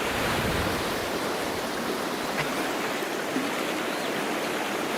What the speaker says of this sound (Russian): Река Тулата. Большая вода.